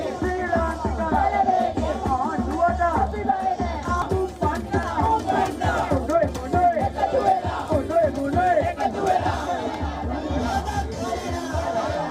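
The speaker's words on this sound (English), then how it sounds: "hundreds of thousands of citizens took to the streets to celebrate Gotabaya Rajapaksa's resignation" A huge street crowd in Sri Lanka cheers and shouts in celebration of Gotabaya Rajapaksa's resignation, a loud, dense roar of voices, whoops and chanting that carries on without a break.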